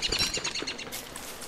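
Birds chirp in the video game Don't Starve, several quick bright tweets in the first second, then fading to a faint ambient background.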